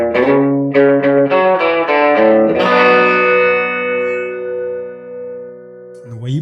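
A guitar plays a passage from a song lesson: a run of quick, evenly spaced plucked notes, then one sustained ringing chord that fades slowly, close and clear with no talking.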